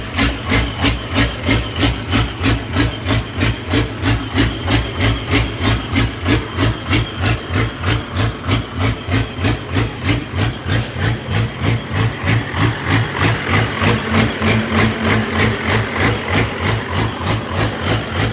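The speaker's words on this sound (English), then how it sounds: "That injector leak makes it lope like crazy. But it'll run." A Challenger engine idles with a heavy, rhythmic lope caused by an injector leak, pulsing steadily about twice a second, close and loud throughout with a hissing undertone.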